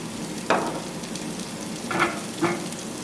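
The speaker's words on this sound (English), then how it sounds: "drop this in the pan. Get that nice sizzle going." Asparagus sizzles in a hot frying pan with olive oil, a steady crackling hiss broken by a few louder bursts of spitting as pieces are moved around.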